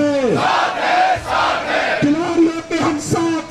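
A crowd at a Jantar Mantar protest in support of athletes chants a slogan in unison, answering a leader's call with a loud repeated response.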